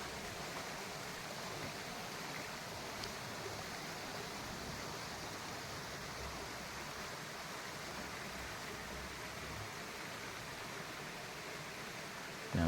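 Aruvikkachal waterfall at Poonjar in Kerala rushes as a steady, even wash of falling water, quiet and unbroken for the whole stretch with no voices.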